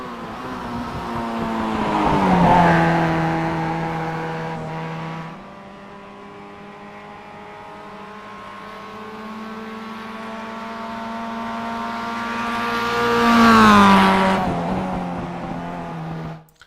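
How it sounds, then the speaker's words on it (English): A Mazda MX-5 race car engine in iRacing revs up loudly, eases into a steady drone, then climbs again to a high-pitched peak before cutting off. "I do like the sound of that engine."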